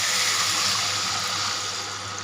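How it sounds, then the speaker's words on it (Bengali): Water poured into a pan for hilsa fish curry, a continuous loud rushing pour filling the whole stretch without pause or voices. "আমি জল দিয়ে দিলাম।"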